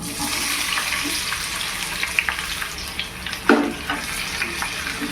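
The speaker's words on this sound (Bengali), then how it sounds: "দিয়ে হালকা হাতে ভালো করে আলুগুলোকে আগে ভেজে নেব।" Boiled potatoes frying in flavoured oil in a pan, a steady loud sizzle with a few scraping and stirring knocks from a utensil.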